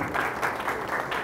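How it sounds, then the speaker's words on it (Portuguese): An audience at a talk claps in a brief, steady patter of applause, moderately quiet and heard on its own without speech over it. "Palmas para ele."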